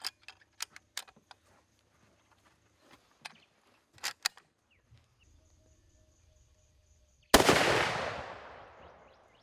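A single loud, sharp rifle shot from an old Mauser on a buffalo hunt rings out close by and trails off in a long echoing decay. It follows several seconds of faint clicks and handling noises.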